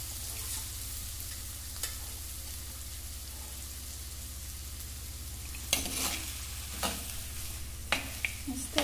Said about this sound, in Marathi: आणि आता मी याच्यामध्ये मटण सुक करणार आहे, त्यासाठी मी त्यामध्ये मसाल्यामध्ये से मटणाचे पीस ऍड करते